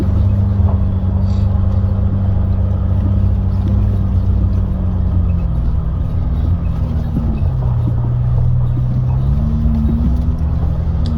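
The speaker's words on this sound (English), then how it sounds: "you can see Lucas tyres there throwing up a bit of sand, certainly working pretty hard" A 4WD on Lucas tyres working hard through desert sand dunes, its engine droning loudly and steadily throughout, with the pitch dipping and rising as the load changes.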